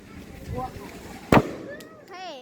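A single sharp firecracker burst at a temple festival fireworks display, one loud crack standing out over crowd noise and nearby people talking, with faint whistling tones afterward.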